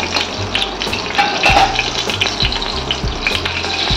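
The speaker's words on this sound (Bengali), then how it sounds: "এর মধ্যে একটুখানি সাদা জিরে ফোড়ন দিলাম" Cumin seeds sizzle loudly in hot oil for a Bengali katla fish curry. The crackling hiss stays close and continuous, with soft stirring scrapes and low thuds underneath.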